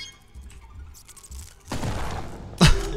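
Gunfire in the Kill It With Fire video game as a spider is shot, with a burst of loud shots followed by a sharp, punchy blast over quieter game noise.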